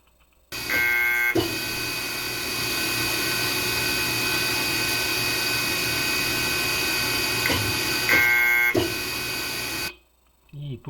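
A running fire pump in a sewage treatment plant's cogeneration chiller setup sets off an alarm: a loud, steady machine hum fills the space, broken by two short alarm tones near the start and end before it cuts out.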